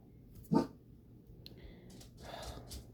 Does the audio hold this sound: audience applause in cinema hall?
no